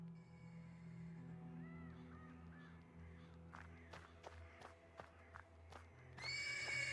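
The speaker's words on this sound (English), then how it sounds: "The persistent neighing of a horse can be heard from the stables." Faint neighing of a horse from stables in a video game, a few soft whinnies over a low ambient drone, followed by sharp clicks and a swelling background tone.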